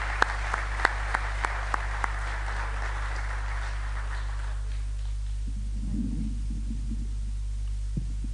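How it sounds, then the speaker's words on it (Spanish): An audience at an Asturian song contest breaks into warm applause for singer Cristina Sánchez, a dense spell of clapping with sharp individual claps that fades out after about four seconds, leaving only a steady low hum. "La recibimos con un cariñoso y fuerte aplauso."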